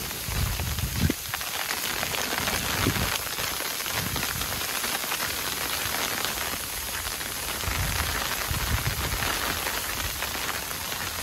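Storm rain in Kaifeng pours down as a dense, steady hiss on surfaces, loud and continuous throughout, with occasional low thumps and gusts beneath the downpour.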